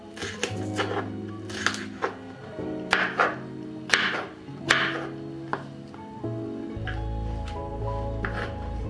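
A knife chopping green capsicum into large chunks on a board, a series of crisp, close thuds in an uneven rhythm, heard alone.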